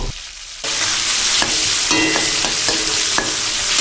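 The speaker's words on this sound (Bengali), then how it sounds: "এবার এই পেঁয়াজের বেরেস্তা বানাবো" Sliced onions for biryani beresta fry in hot oil with a loud, continuous sizzle, punctuated by regular scraping clicks of a spatula stirring them.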